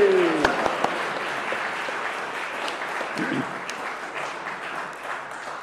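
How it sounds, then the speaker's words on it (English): A church congregation claps at a Harvest Festival worship service, with steady, moderately loud applause lasting throughout and a few faint voices beneath it. "let's give you a clap because they're unique."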